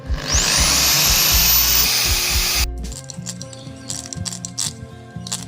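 A drill whines steadily for almost three seconds as it bores through a PVC pipe end cap, its pitch rising as it spins up, then cuts out. Light plastic clicks and handling taps follow.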